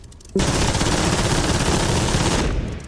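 Aircraft machine guns in the War Thunder video game fire in one continuous, loud burst of about two seconds that begins abruptly and then cuts off. The 12.5 mm guns are firing on their own while the cannon stays silent.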